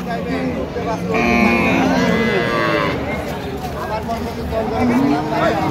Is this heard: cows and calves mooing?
yes